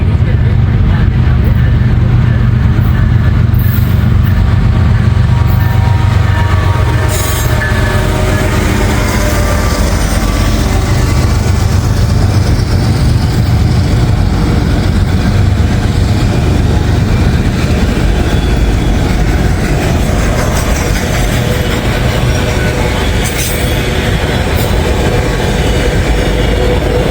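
Freight train of empty cars approaching around a bend, a loud rumbling roar with rattling wheels that swells and stays close, while people talk over it.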